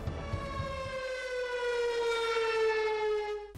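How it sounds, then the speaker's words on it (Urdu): A civil defense siren sounded for a minute of silence at a rally along the Line of Control in Kashmir, a loud, sustained, slowly falling wail that stays steady and alone. "سائرن بجا کر 1 منٹ کی خاموشی اختیار کی گئی۔"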